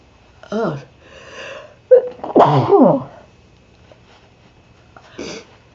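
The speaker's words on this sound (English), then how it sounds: "And I gotta sneeze." A single loud sneeze up close, preceded by a sharp inhale and followed by a short exhale, with a brief vocal sound afterward.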